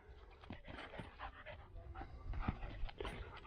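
A new puppy pants close by in quick, breathy bursts with a few soft whimpery sounds, all fairly quiet, with no talk.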